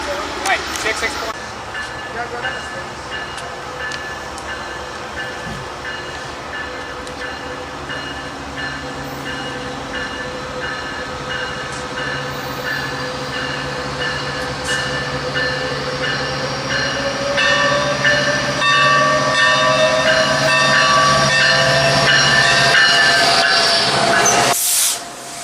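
A Metrolink passenger train rolls past with a Santa Fe locomotive, a continuous rumble and hiss with a bell ringing throughout. The sound builds louder toward the end, and people talk over it.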